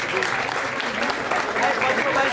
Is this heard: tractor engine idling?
no